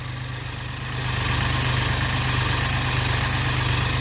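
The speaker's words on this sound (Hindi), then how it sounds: "फुल टायर घूमने पर वो फाइन बेल्ट की आवाज़ आती है" A Mahindra Bolero engine runs at idle with the steering turned fully to lock, giving a steady low rumble and a faint whining belt noise that swells slightly after the first second, close and continuous, with no talk.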